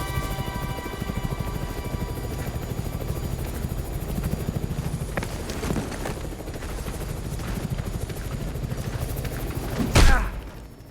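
A helicopter in the video game Chernobylite keeps up a steady thudding rotor beat, loud and continuous, with a sharp louder burst near the end.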